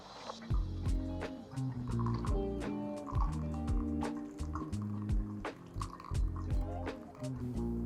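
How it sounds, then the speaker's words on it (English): Water pouring steadily from a Fellow Stagg EKG Pro kettle in a circular pour over coffee grounds, a soft continuous trickle with light clinking and background music. "we're going to repeat this with 100 grams of circular pour"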